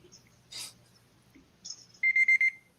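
A timer alarm goes off during a live online giveaway stream: four quick, loud electronic beeps in a tight cluster near the end, after a stretch of quiet background.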